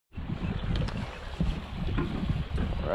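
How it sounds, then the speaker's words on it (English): A fishing boat heads out onto shallow water with a steady rushing wash and heavy wind buffeting the microphone, with no speech. "We're gonna hop in this boat and get in the water"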